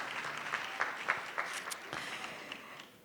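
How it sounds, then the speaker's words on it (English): Audience applause for student panelists at a 2023 scholarship evening in Atlanta. The clapping is moderately faint and scattered, with a few sharper individual claps standing out over a steady patter for about three seconds. "please give our panelists another round of applause for joining us."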